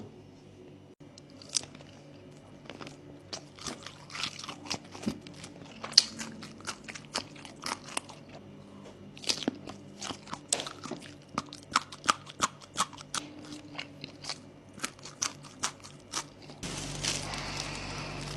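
Crunchy bites and chewing of Isan sausage on a skewer, with green chili, in repeated crisp crackling bursts close up, no talk.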